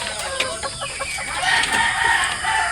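Pullets and brood hens cluck and crow in a close farm setting, with several overlapping calls and a rooster-like crow rising midway, steady and fairly loud with no talk.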